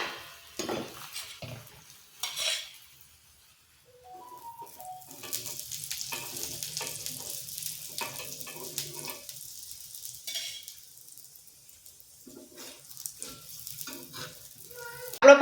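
Aloo paratha frying in ghee on a pan, with a soft sizzle, a few scraping and clinking touches of a spatula as it is flipped, and quiet gaps between.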